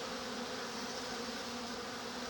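Bees buzz steadily beside a beehive with drawn comb and jars of honey in a shop, a continuous close drone with a low hum running unbroken throughout.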